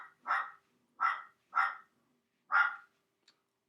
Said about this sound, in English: My dog right now is being ornery and trying to get me to cater to his will